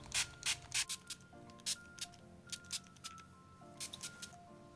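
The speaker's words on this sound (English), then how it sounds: "I'm just going to spray it all around my hair." L'Oreal heat protectant sprays onto hair in a series of short, close hissing bursts, about a dozen quick pumps of a spray bottle with soft rustling between them.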